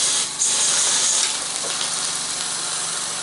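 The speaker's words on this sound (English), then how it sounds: "Now let's try the whistle." Steam hisses steadily from a Mamod TE1A model traction engine's whistle, a thin, airy, continuous rush with a brief high tone near the start, moderately loud and close with no talking.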